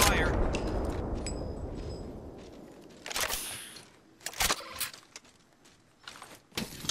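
Gunfire in the video game Apex Legends: several sharp, loud shot bursts and short volleys arrive in irregular clusters over a rumbling game background in the second half.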